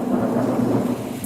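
Thunderstorm with low rolling thunder and steady rain, a loud, continuous rumble with no voices.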